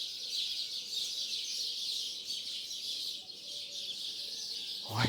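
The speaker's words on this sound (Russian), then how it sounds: "Ой, как орут эти птицы." A flock of starlings screeches loudly and continuously, a dense high chatter that fills the whole stretch with a steady wall of overlapping calls.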